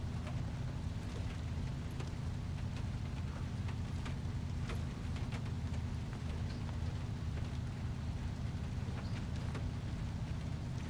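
Steady rain in the off-road truck game SnowRunner, a continuous patter and hiss layered over a low rumbling engine drone near a river crossing, even and unbroken throughout.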